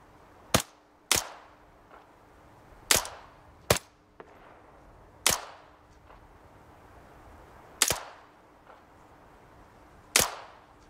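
Gunshots in the game Arma 3, a sniper engagement against Taliban positions near a radio tower: eight sharp, loud single cracks spaced irregularly a second or two apart, each trailing off in a short echoing decay, no talk.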